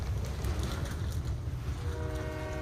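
A train rumbles steadily along with a dense low roar, and a faint horn-like tone emerges toward the end.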